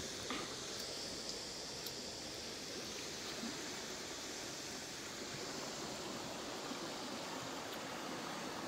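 A river flows in a steady, broad rush that stays even and unbroken for the whole stretch, fairly quiet with no voices over it.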